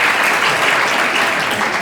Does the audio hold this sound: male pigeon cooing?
no